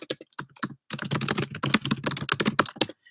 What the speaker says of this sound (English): I'm going to type it for you.